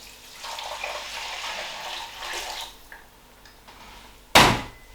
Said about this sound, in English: And you add one pint of water to the pot.